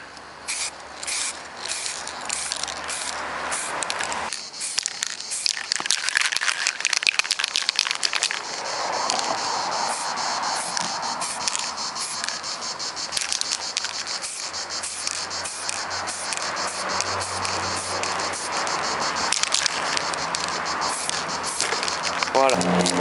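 Spray paint hisses onto an airsoft replica being camouflaged, in repeated bursts of fine airy spraying with crinkly noise, heard alongside a person talking.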